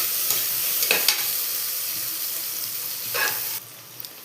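Chopped onions sizzle steadily in a pan for mushroom rice, with a few louder scraping stirs rising briefly over the constant frying hiss before it drops away near the end.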